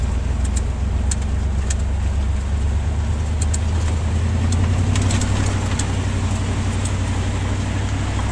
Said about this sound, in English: Bogging down my engine, man.